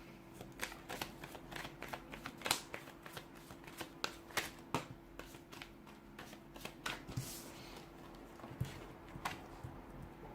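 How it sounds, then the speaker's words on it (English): Cards are shuffled over and over, with crisp rapid riffles and flutters up close and no talking. "let's give the cards a shuffle and let's begin"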